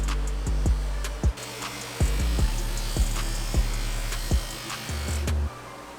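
A finer number 3 buffing wheel with a different compound polishes a Suzuki RM250 part during a rebuild: a steady electric motor hum runs throughout, broken by sharp knocks and clicks as the part meets the wheel.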